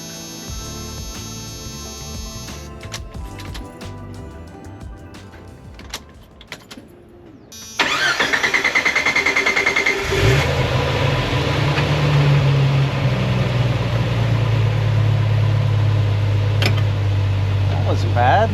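A Jeep Wrangler YJ with a newly installed Motobilt stretch gas tank is started using a jump pack. After clicks and cranking, it abruptly catches and settles into a loud, steady idle, with someone talking over it.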